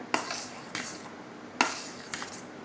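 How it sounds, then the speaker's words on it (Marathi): A spoon mixes homemade watermelon ice cream base with rose water in a bowl, giving four short clinking scrapes against the container, spaced unevenly and fairly close, with no talking. "पुन्हा एकदा छान मिक्स करून घेऊया"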